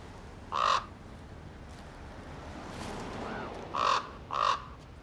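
Ravens raiding trash give three loud, separate croaking caws over faint outdoor background noise, the first one alone and the last two close together near the end.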